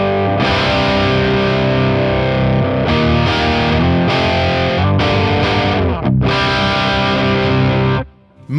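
An electric guitar with a high-output humbucker plays loud through a Horizon Devices Nano Attack pedal: thick, heavily distorted sustained chords with brief breaks before a final cut-off.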